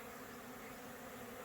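Steady, faint insect buzzing, a continuous drone of honey bees flying nearby in the evening around candy cane syrup feed, with no voices.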